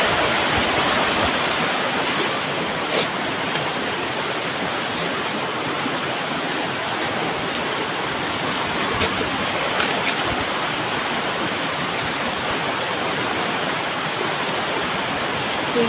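A mountain stream on Burias Island rushes continuously, a dense, even wash of flowing water close by with no pauses and no voices.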